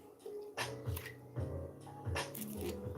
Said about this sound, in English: before I even start shuffling